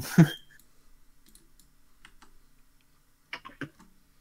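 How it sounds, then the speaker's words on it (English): Someone types on a computer keyboard, producing scattered sharp key clicks. A loud tap opens the passage, faint sparse taps follow, and a quick cluster of clicks comes near the end. "you've just been banging on the goddamn keyboard"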